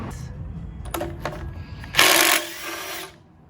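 An impact wrench on a Jeep XJ's Dana 60 axle removing hub bolts gives a few short rattling bursts, then one louder, harsher burst of about a second.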